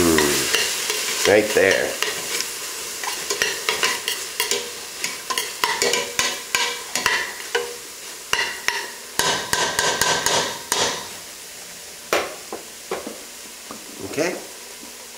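Vegetarian chili with garlic is stirred in a pot, with a sizzle under clattering utensil knocks and scrapes in irregular bursts, close and loud, and a brief spoken remark.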